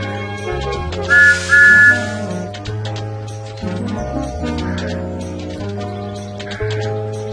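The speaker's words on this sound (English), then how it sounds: "Try pulling the yellow lever to blow Thomas's whistle." A train whistle from Thomas the Tank Engine in a children's video game, two short bright toots in quick succession over a cheerful looping game music bed.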